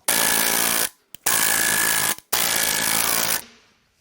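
Air-powered impact wrench hammering on the crank pulley bolt of a Hyundai Equus 5.0L Tau V8: three loud, close, rattling bursts of about a second each, separated by short pauses, with no talk.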